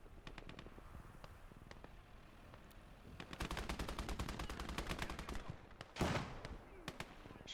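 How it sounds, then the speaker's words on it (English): Battle in the WWII strategy game Gates of Hell, with crackling bursts of gunfire and a heavier grenade-like blast near the end, set at a middle distance with no speech. "A few cheeky grenades."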